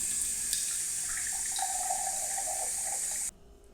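Steady rush of water pouring from a tap for about three seconds, then cut off abruptly, close and fairly loud with no talking.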